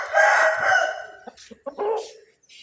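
A rooster crows once nearby, a loud, drawn-out call that breaks into a few short clucks at the end.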